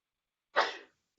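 A single short, sharp sneeze from a person in a classroom, close and clear against near silence.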